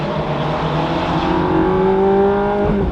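A Ferrari engine driving along with a steady drone that climbs in pitch as it accelerates, then drops briefly at a gear shift near the end, heard from inside the car.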